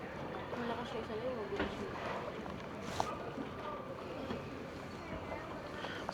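Wooden boat moving through a canal in Zhujiajiao ancient water town with a steady wash and rumble, wind noise, and a faint knock midway.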